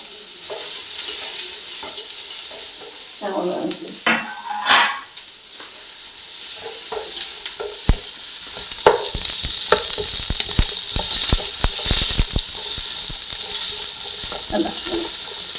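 Chopped onions hit a hot pan and sauté with a steady sizzle, stirred with loud scraping clatter near the start and intermittent clicks and scrapes throughout, close and continuous.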